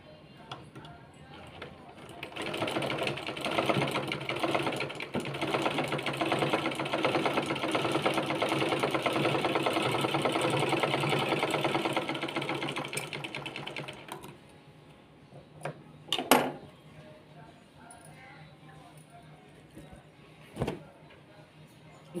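A sewing machine stitches a fabric two-in-one bag in a steady continuous whir for about twelve seconds, then stops, followed by a few handling clicks and thumps in a quiet room.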